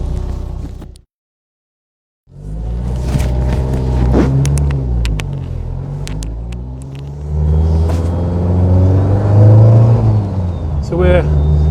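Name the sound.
500bhp Audi A3 track car engine while pulling over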